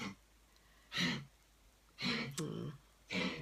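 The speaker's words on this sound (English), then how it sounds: "That's poor Spirit over here doing her cough" A chicken with lung tumors gives a series of short, raspy, breathy coughs, three or four bursts spaced about a second apart, close by.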